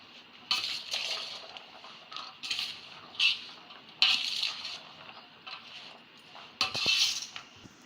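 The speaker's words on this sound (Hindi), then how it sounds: "अब हम इसको अच्छे तरीके से मिक्स करेंगे।" A spoon tosses aloo chana chaat with chaat masala and black pepper in a bowl, giving irregular clinks and scrapes against the dish in short clusters, close and fairly crisp, with quiet gaps between.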